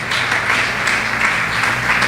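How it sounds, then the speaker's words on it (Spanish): Church congregation applauding during a Spanish-language sermon, a steady wash of clapping that stays loud and even for the whole stretch. "Denle un aplauso a la palabra del Señor."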